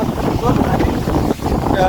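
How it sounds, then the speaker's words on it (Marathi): Heavy rain and strong gusts beside the surging Koyna river: a loud, continuous roar of wind buffeting the microphone, with rushing noise throughout and a voice faintly underneath. "जबरदस्त जोराचा पाऊस आलाय"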